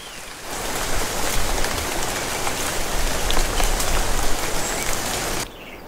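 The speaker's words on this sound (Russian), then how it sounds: "Ему надо переждать ливень." Heavy rain pouring down in a downpour, a dense continuous hiss of drops drumming on surfaces, loud and steady throughout before cutting off abruptly near the end.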